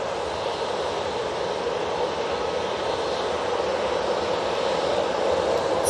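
A TUI airliner rolls for takeoff at Manchester Airport, bound for Dalaman, a steady broadband jet roar holding loud and even throughout without a break.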